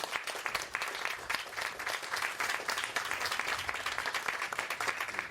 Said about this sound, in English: can you please give a round of applause to all of our nonprofit partners?